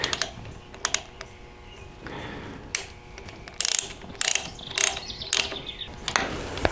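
A ratchet fitted with a 9/16 socket tightens a bolt on a 1970 engine mounted on a run stand. It gives irregular bursts of rapid, close, crisp clicking, separated by short pauses and small metallic handling noises.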